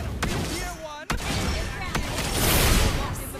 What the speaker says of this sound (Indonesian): Satu tembakan, satu nyawa melayang.